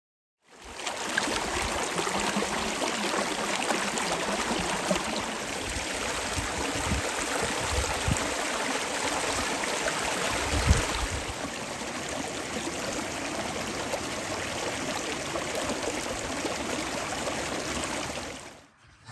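A nearby stream flows steadily beside a campsite before an Arctic blast snowstorm, a constant broadband rush and trickle of water lasting the whole stretch, with no talk.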